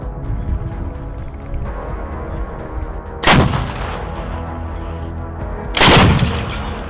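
An M777 howitzer fires twice, each round a loud, sharp boom with a rolling tail, about two and a half seconds apart, over a steady background of rumbling noise.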